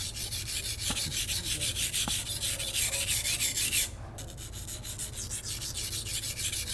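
A knife blade sharpened on a rough stone makes steady, rhythmic grinding strokes, close and continuous with a brief dip partway through.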